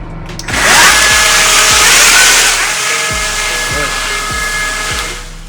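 Milwaukee MX Fuel battery-powered power troweler motor spinning up, a loud steady whine with a windy rushing hiss and faint rhythmic thumps, holding fairly constant throughout.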